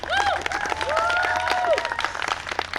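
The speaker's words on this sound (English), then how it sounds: "Give her a warm round of applause." A festival crowd applauds at the opening ceremony of Golden Spike Days in Port Moody, with brisk clapping and some whistles or cheers over it, lasting the short stretch.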